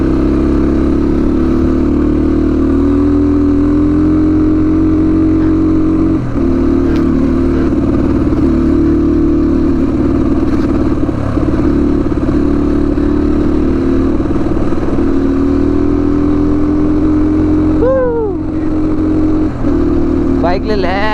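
A motorcycle engine runs steadily and loud throughout a ride on a rough mountain road toward Manang, Nepal, with engine note shifts and revs near the end; people talk over it.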